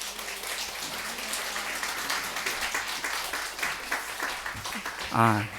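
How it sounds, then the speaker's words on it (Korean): A church congregation claps to welcome a missionary to the front, a steady, moderately loud round of applause that continues throughout, with a brief voice near the end. "박수로 맞이하시기 바랍니다"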